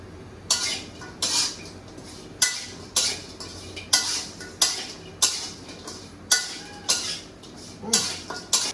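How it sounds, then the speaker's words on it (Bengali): Dried churi fish heating in a wok, with a metal spatula scraping and clanking against the pan in a steady rhythm of about a dozen sharp strokes, close and fairly loud with no voices. "এই ধোয়া উঠতেছে মানে মাছ হিট হচ্ছে, এই মাছ গরম হচ্ছে।"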